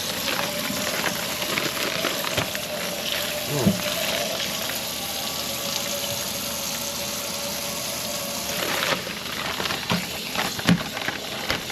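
Smelt fish being rinsed and agitated in water, a steady wet sloshing and swirling with a few louder splashes, fairly quiet and close with no talking.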